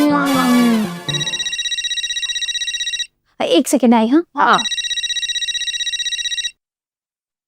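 A telephone rings in a Hindi TV sitcom, long repeated electronic trills, loud and close, broken by a brief spoken exchange before ringing resumes and stops.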